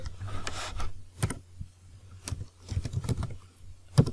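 Keys tapped on a computer keyboard while entering text into an Excel cell, a few quick bursts of close, crisp clicks separated by short pauses, with no speech.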